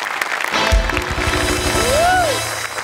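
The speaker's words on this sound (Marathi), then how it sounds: "दोघांसाठी मी उभा राहून टाळ्या वाजवतो" An audience at a comedy show breaks into applause, a brief clattering burst that rises then settles, with a whistle-like tone sliding over it.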